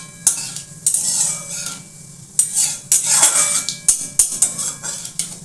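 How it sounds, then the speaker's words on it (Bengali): Cumin seeds fry in hot oil for a Bengali boal fish curry with a soft sizzle, while a metal spoon scrapes and clatters against the pan in quick, irregular strokes, close and fairly loud, with no talking. "একটু ভালো করে জিরেটাকে একটু নাড়াচাড়া করব। এটাকে একটু ভাজতে দিলাম"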